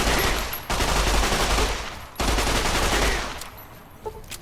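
Sustained machine gun fire in a video game, loud and continuous bursts with a brief break near the start and a drop-off toward the end.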